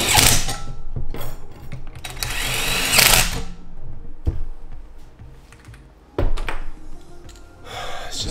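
A hand ratchet tightens bolts on a DIY racing-simulator actuator with the motor resting in place, producing bursts of close, sharp clicking separated by quieter pauses and occasional knocks.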